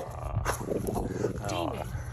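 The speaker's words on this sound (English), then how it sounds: "I'm trying to get him to not bark." A dog growls and whines in short bursts, close by, with low rumbling underneath.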